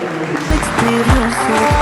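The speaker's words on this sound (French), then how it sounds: "Un tonnerre d'applaudissements pour eux, s'il vous plaît, mesdames et messieurs." Applause from the audience at an influencer awards ceremony in a hotel, a broad clapping wash with a tonal voice or music line running over it.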